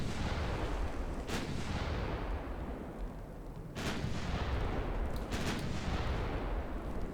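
Heavy cruiser main guns firing HE shells in Ultimate Admiral Dreadnoughts, deep booming blasts at intervals over a steady rumbling sea and engine bed, loud and without talk.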